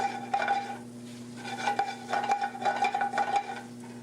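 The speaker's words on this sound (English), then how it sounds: "And now we'll saute our spinach. The fresh spinach is also cooked in butter" Fresh spinach sautéing in butter, with repeated stirring and scraping strokes in the pan over a low sizzle, in a rhythmic, close series of motions.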